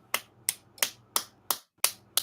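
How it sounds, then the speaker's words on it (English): Rocks clap together in six sharp, evenly spaced cracks, each one bright and short with a quick decay over a faint low hum. "the rocks clapping together"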